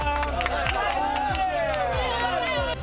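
A crowd cheers and shouts at the shore as Keelung's mayor wades into the sea for the Waimushan open-water long-distance swim, a lively outdoor babble of voices and calls with speech mixed in.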